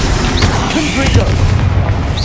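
Repeated Confringo spell explosions in Hogwarts Legacy boom loudly one after another in heavy, rumbling bursts, while people talk over the battle noise.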